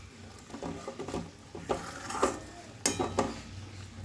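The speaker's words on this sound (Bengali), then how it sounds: "এই যে ভাজা ফুলকপিটা এতে আমি দিয়ে দেবো।" Fried cauliflower pieces drop into simmering gravy in a pan, with faint, soft clinks of a utensil and gentle bubbling at a quiet level, no voices heard.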